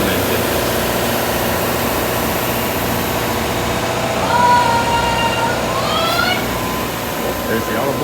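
The steam engine of the Liberty Belle riverboat at Disney World churns steadily in a loud, even mechanical drone, with a rising whistle-like tone partway through.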